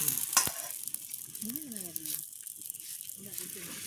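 Veechu roti cooking on a hot griddle in a village kitchen, with a soft sizzle and some scraping and slapping as the dough is handled, while a person talks over it.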